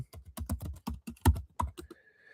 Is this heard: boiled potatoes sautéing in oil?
no